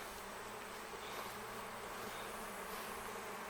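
A swarming honey bee hive outdoors gives off a dense, steady buzzing of many bees at moderate level, continuous throughout with no talk.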